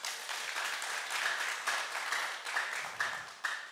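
Audience applause in a French-language classroom or lecture setting, a steady patter of many hands clapping at moderate loudness, continuing throughout with slight swells and no talk over it.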